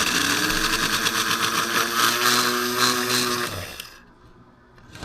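A Lionel Burro crane toy motor runs after a gear repair, giving a loud, steady mechanical whir with a rhythmic gear buzz for about four seconds before cutting off to near quiet.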